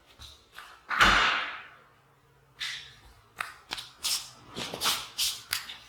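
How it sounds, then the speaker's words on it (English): A room door is handled and opened, with a loud thump near the start followed by a string of shorter knocks, rattles and shuffling noises close by, and no talking. "Let me open the door and see if that helps with the echo."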